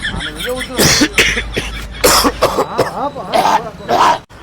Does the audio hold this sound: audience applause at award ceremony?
no